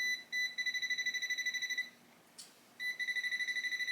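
An electrical voltage tester held against household wires during a basement bar build beeps in a rapid, evenly pulsed string of high tones, pauses briefly, then resumes the same quick beeping, close and clear with no talking.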